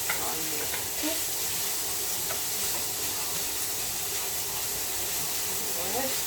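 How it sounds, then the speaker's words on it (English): Ground beef sautéing in a pan for a stew with vegetables, a steady sizzling hiss that runs continuously and fairly close, with no talk over it. "so I'm sauteing the ground beef"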